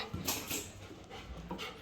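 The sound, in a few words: dog panting while following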